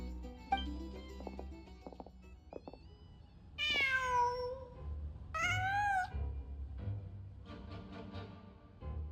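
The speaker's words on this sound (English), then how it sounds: "Just a cat." A cat in the Genshin Impact video game gives two long, drawn-out meows, loud and close, separated by a pause, over a soft low ambient backdrop with light plucked tones and scattered clicks.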